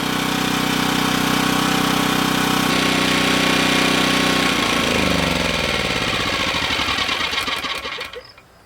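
A generator engine runs steadily with a loud, rough drone after its fuel has been shut off, then sputters and slows around five seconds in before dying out completely near the end.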